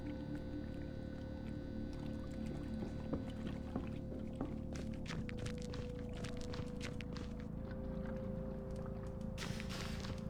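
Old petrol glugs from a can into a vehicle tank in the video game The Drifter: a continuous liquid pour with irregular gulping bubbles under a low ambient hum, fairly close and steady.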